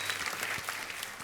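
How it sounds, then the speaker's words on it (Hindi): Loud, dense audience applause fills a TV comedy show studio, a steady wash of many hands clapping in honor of Sunny Deol. "तो एक बार जोरदार तालियां हो जाए पहले उनके लिए।"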